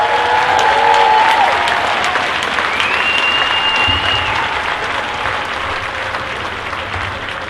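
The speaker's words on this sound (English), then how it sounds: "applause for our graduates." A crowd gathered indoors for an 8th grade graduation ceremony applauds the graduates with loud, sustained clapping that slowly tapers off, while a few brief whistles rise above it.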